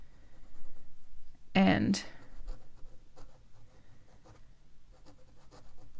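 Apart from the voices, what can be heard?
fountain pen nib writing on paper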